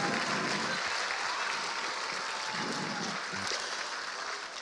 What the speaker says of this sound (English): give your amazing children the biggest round of applause